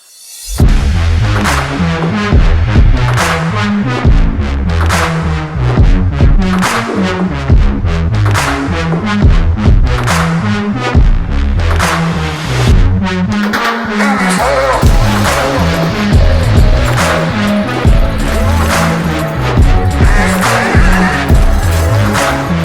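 A 2022 Kawasaki ZX10r sport bike fitted with a Scorpion slip-on exhaust revs hard and loud, rising and falling through sustained high-rpm bursts with a raspy exhaust edge throughout.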